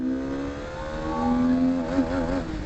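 A motorbike on a highway accelerates from second gear upward, its engine whine climbing steadily in pitch with a brief dip around a gear shift, loud and continuous with road and wind noise.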